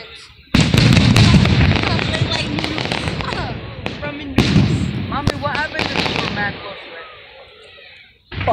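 Fourth of July firecrackers and fireworks exploding close by, rapid crackling volleys and sharp bangs in two loud bursts, with excited voices and shouts mixed in.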